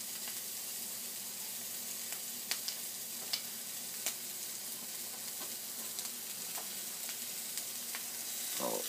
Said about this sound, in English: little alcohol burning stove here